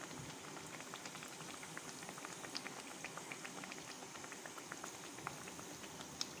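Athirasam, a sweet rice-flour dough, deep-frying in hot oil, giving a steady dense bubbling crackle with fine popping throughout, close and even in level, with no voices.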